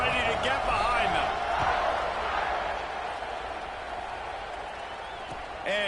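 A football stadium crowd roars and cheers at kickoff, a loud continuous wash of voices that eases slightly while remaining steady throughout.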